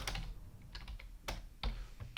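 JavaScript code typed on a computer keyboard, a handful of quiet, close, irregular key clicks with short pauses, no voices.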